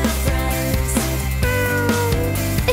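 Hasbro cuddling kitty toy giving repeated electronic meows in a steady rhythm, loud and close over a continuous tonal background.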